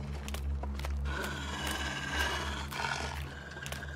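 Cougar roar from The Long Dark, a rough, drawn-out growling snarl that swells and fades over about four seconds above a low droning background, with no voices.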